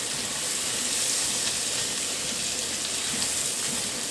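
Garlic and tomatoes sizzling in a pan over medium heat, a steady, even crackling hiss that stays close and constant, with no talking.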